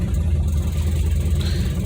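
A 1959 Edsel engine runs steadily just after starting, a loud, close, low idling rumble with exhaust leaks, alone without talk.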